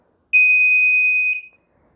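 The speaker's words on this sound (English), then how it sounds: "the piezo will go off as soon as the timer's done" A piezo buzzer on a countdown timer with a wired remote in a NEMA 4X enclosure sounds one loud, steady, high-pitched beep lasting about a second in otherwise quiet surroundings.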